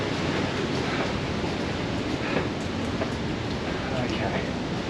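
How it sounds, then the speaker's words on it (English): A big waterfall roars from ahead along a hiking trail tunnel, a constant broadband rushing that fills the whole stretch without breaks. "What it sounds like, there is a big waterfall coming up."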